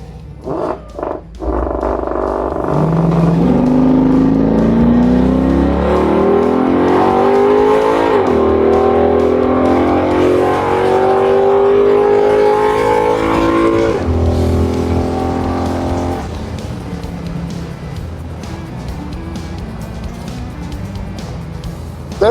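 A Pontiac Trans Am drag racing a Dodge Hellcat, its engine roaring loud and close as it accelerates hard, pitch climbing steadily through the gears before easing off near the end.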